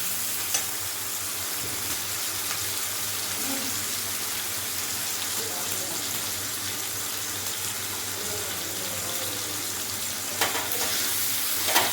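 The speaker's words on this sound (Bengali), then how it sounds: "এবার আবার এটা ভালো করে ভাজতে থাকবো, একটু নাড়াচাড়া করতে থাকবো।" Salted chicken pieces for Bengali-style chilli chicken fry in a pan while being stirred, giving a loud, dense, unbroken sizzle with a few sharper scrapes and crackles near the end.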